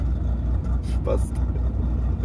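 A BMW M3 engine idling gives a steady, low rumble that runs evenly throughout, with a short burst of speech over it partway through.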